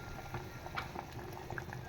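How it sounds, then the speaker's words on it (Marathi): Thick curry broth bubbles and pops softly in a pot, a steady simmering burble with small irregular plops, close and fairly quiet. "छान असं सार मस्तपैकी शिजतं आहे, उकळतं आहे बघा"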